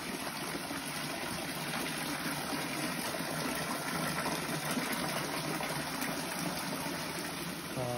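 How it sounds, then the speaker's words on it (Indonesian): Water gushes steadily from the spouts of a women's bathing pool at Beji temple in Bali, a continuous broadband rush that stays loud and even from start to finish with no voices over it. "Dan untuk pemandian wanita di sini juga ada 3 pancuran."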